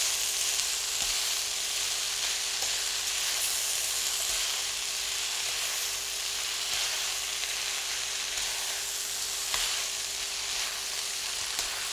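Noodle salad dressing heating in a pan, giving a steady, continuous close sizzle and hiss with no pauses and no talking throughout.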